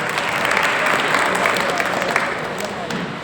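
A crowd claps for a team after a safety skit at a company competition, giving sustained, dense applause throughout.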